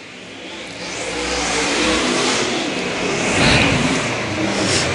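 A-Mod dirt-track race cars roar around turn four in a qualifying heat, engines revving loud and continuous as the pack passes close, with crowd and track ambience beneath.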